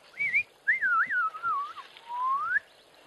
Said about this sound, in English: I can also hear a somber greenbull going,